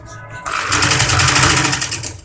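A sewing machine runs in a steady, rapid whirring burst while stitching the shoulder seam of a lined baby girl's kurti. It starts abruptly after a brief pause and keeps going loud and close.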